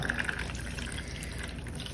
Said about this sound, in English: As long as you have water coming out like that, where it's just dripping out